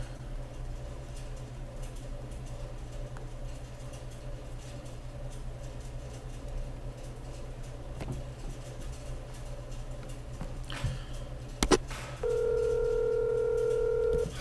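An outgoing telephone call produces a steady ringing tone that starts near the end, loud and sustained, after a quiet stretch of low hum and a few clicks.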